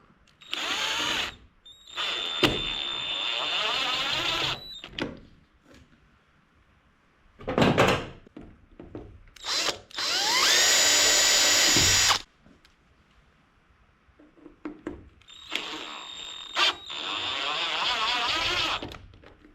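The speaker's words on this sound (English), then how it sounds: "play it safe and pre-drill it." A power drill pre-drilling a hole for a third brake light on a pickup camper shell whirs in several short bursts, spinning up and stopping, with quiet pauses and small handling clicks between runs.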